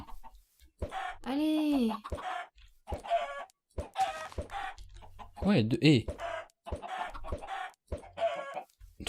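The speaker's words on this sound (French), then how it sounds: "J'ai eu 3 petits poulets avec 10 œufs" Minecraft chickens cluck in short bursts over steady music, with a few squawky calls mixed in while a person talks on and off.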